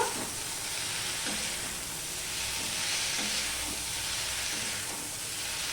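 Eggplant pieces fry and sizzle among fenugreek greens in a pan, giving a close, even, continuous crackling hiss with no talking.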